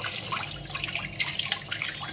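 Tap water runs steadily into a cooking vessel as it is rinsed, a continuous close splashing and trickling wash lasting about two seconds with no talk.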